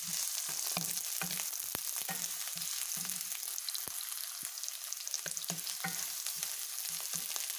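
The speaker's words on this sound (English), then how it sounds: "We're gonna stir fry and we will add this onions" Chopped onions stir-fried in a pan for a creamy, cheesy pasta make a steady hiss of frying, broken by the dull scrape and knock of a spatula every second or so. No one talks.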